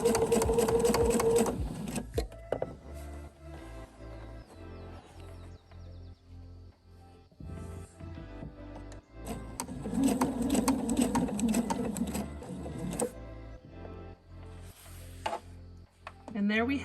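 Sewing machine top stitching bias tape, running in several bursts of rapid, mechanical chattering with pauses between, close and clear, with someone speaking during the quieter stretches.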